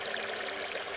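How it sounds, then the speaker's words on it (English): Water trickles and pours steadily, as when watering flowers, a continuous close splashing stream with no talk. "I water the flowers."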